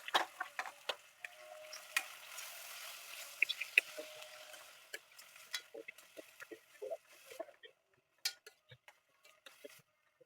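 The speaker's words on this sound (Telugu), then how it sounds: "ఇప్పుడు షార్ప్ చేస్తున్న ఆనియన్స్ కూడా యాడ్ చేయండి." Onions and curry leaves frying in a pan, with faint crackling sizzle and scattered sharp pops and ticks at close range, quiet and without talk.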